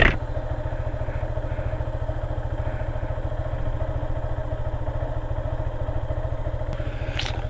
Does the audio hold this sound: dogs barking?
no